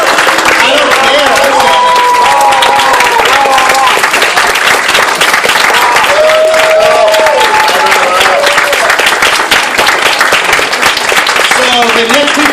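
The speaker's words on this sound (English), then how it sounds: "Like, seriously, applaud them." Dense, sustained applause from a convention audience at an anime con's closing ceremony fills the whole stretch, loud and steady, with crowd voices, cheers and a few whoops rising through the clapping.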